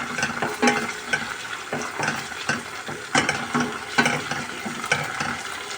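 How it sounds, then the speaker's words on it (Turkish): Pepper paste sautéing in a hot pan for a spicy bulgur pilaf, with a steady sizzle under repeated scraping strokes of a utensil, close and moderately loud. "Şöyle bir salçasını kavuralım."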